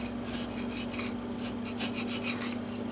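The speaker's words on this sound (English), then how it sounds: "and do a little sanding." Steady rhythmic rasping of sandpaper scrubbing a glue-residue-covered wooden fretboard of a Guild JF65-12 guitar, close up, in repeated back-and-forth strokes with no voices.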